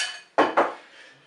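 Metal lid of a Cookeo multicooker set onto the pot over potatoes, two quick close clanks a fraction of a second apart, each ringing briefly in a quiet kitchen.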